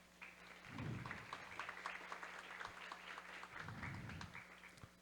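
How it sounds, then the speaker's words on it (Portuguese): A seminar audience at a round-table event applauds steadily for several seconds as the moderator is welcomed, a dense even patter of many hands heard at moderate distance. "uma salva de palmas"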